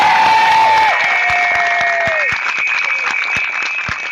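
A crowd at an outdoor rally cheers and claps loudly, a dense wash of applause with whistles and shouts that eases slightly as it goes on.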